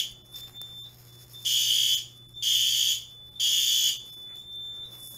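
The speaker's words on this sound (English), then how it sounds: "All the horns are in sync." Fire alarm horns on a System Sensor sync module blare together in a steady repeating pattern, three loud bursts of about half a second each with short pauses between them, close and piercing, with a faint high tone in the gaps.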